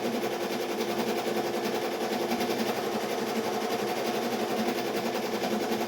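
An embroidery machine stitches a Halloween design onto an adult shirt, giving a fast, steady mechanical rattle that runs continuously at an even pace throughout.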